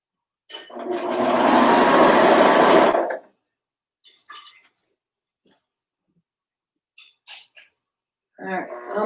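A serger stitching a t-shirt gives one loud, close whirring run of about two and a half seconds, followed by faint clicks and handling sounds and a brief voice at the end.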